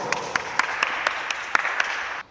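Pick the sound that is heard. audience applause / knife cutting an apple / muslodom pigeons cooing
audience applause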